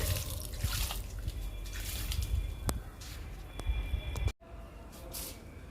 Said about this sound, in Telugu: రోడన్ ప్లాంట్కి ఇస్తున్నాను లిక్విడ్ని